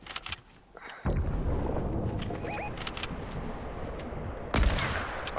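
Gunshots in Fortnite crack out as a rapid series of sharp reports, with a quiet lull followed by sustained firing and a louder burst near the end.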